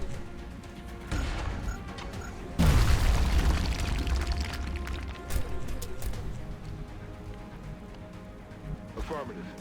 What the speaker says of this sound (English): you're just going to punt a grenade over there and annihilate all of that precious cover of theirs